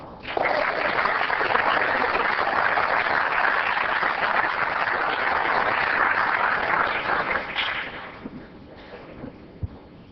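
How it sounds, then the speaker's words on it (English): A council meeting audience breaks into sustained, loud applause for a city Public Works maintenance worker's service award, steady clapping that fills most of the stretch before tapering off near the end. "Let's help him celebrate with a round of applause."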